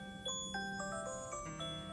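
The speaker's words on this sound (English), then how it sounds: "That's my alarm letting me know I have 10 minutes before" A reminder alarm chimes a quick, faint series of stepped electronic tones, alone, in a home crafting space.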